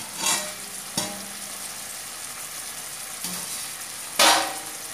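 Tomatoes and garlic softening in a covered pan, stirred in a few separate scraping strokes over a faint steady frying hiss, close and quiet between movements.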